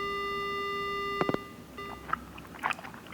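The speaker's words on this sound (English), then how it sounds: "The only sound I hear is the dial tone." A steady phone dial tone from the horror game Death Mark hums alone for just over a second, then cuts off, followed by faint wet clicks and smacking noises.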